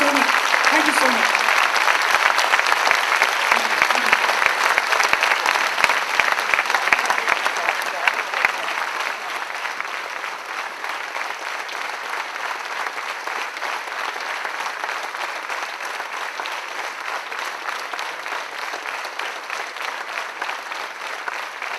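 Auditorium audience giving a standing ovation after a lecture at IIM Calcutta, dense sustained clapping that starts loud and settles into steady applause, with brief speech at the start.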